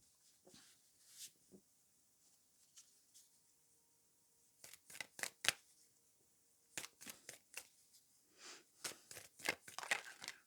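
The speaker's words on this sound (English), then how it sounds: "So I'm going to shuffle some more cards" Tarot cards being shuffled by hand: quiet, close riffles, flicks and papery slaps come in scattered clusters, with busier runs toward the end and near silence between them. Nobody speaks.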